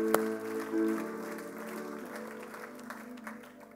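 A church congregation bursting into applause and cheers to acclaim God, a close burst of clapping and voices that swells at first and then gradually thins out.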